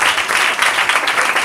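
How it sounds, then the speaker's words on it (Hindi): A church congregation bursts into brief, dense applause in the name of Jesus Christ during a sermon, loud and close, with clapping filling the whole moment. "अगर आ रही है तो हम यीशु मसीह के नाम के लिए तालियां।"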